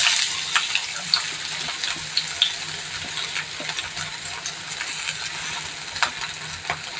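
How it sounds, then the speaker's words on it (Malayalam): Ginger and dried red chillies sautéing in a pan, a moderate crackling sizzle with light stirring clicks and scrapes throughout, close by and steady. "ഇനി ഇത് നമുക്കൊന്ന് വഴറ്റാം"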